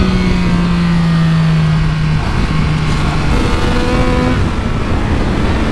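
Triumph Speed Triple RX motorcycle engine revving hard close up, a steady loud mechanical roar with rising engine tones that briefly touch the rev limiter before settling, continuous with no talking.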